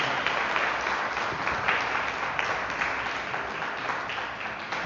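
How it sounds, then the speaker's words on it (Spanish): A church congregation claps loudly and steadily together during a worship service, a dense continuous wash of applause with no voices standing out. "Podemos darle unas palmas al Señor. Dáselas fuerte, iglesia."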